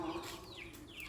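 Young chicks bought as pets cluck and cheep in a short, faint burst, with a couple of rising chirps close by.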